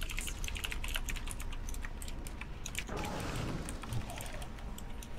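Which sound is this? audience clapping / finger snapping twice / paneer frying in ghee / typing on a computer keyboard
typing on a computer keyboard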